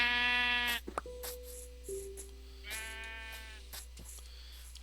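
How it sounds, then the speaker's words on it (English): Sheep in the Minecraft video game bleat twice, a wavering synthetic baa near the start and another midway, with small clicks and faint game sounds between them over a low steady hum. "Hello, sheep."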